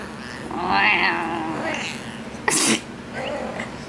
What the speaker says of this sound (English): you have a sick meow, kitty